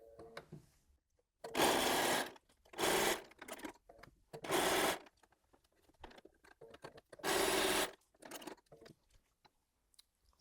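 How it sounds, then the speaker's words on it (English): A sewing machine stitches around the edge of a quilted fabric coaster in four short bursts of rapid stitching, close by, separated by quiet pauses and small handling sounds. "I'm going over to the sewing machine and I'm just going to sew all the way round the edge"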